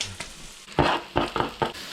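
Salted cabbage in a frying pan, heard as a faint background sizzle broken by four or five louder scraping stirring strokes in an uneven rhythm, close by.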